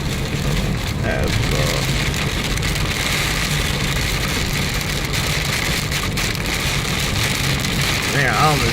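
Heavy winter rainstorm pounding a car windshield while driving, a dense, steady wash of rain noise with road rumble underneath, loud and continuous throughout.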